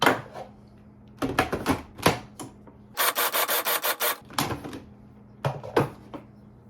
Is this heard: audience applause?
no